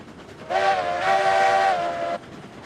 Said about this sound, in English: When you're like across the train yard, I feel like this whistle's louder.